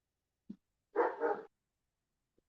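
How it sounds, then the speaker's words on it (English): A dog indoors during a paranormal investigation of a supposedly haunted house barks a few times: a short yip, a louder doubled bark, then the start of another at the end, with silence between. "Dog's going crazy."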